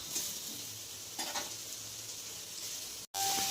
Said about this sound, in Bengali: আলুর সাথে সয়াবিনটাকে ভালো করে ভেজে নেব